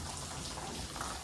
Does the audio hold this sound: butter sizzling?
no